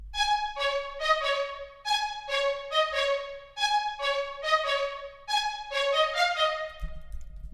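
A bright plucked string melody from a pluggnb beat, pitched up an octave, repeats a short choppy pattern of quick notes at a steady groove, fairly quiet and heard alone.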